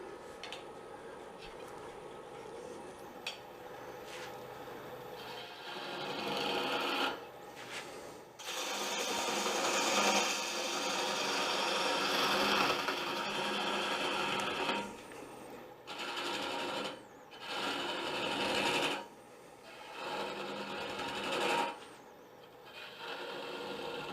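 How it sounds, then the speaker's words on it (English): A fingernail ground gouge cuts wood spinning on a lathe while a ghost figure is turned, a steady whirring, scraping hiss that rises and drops in several passes separated by short quiet gaps as the tool comes on and off the work. "we're just going to take the fingernail ground gouge and bring this down both sides"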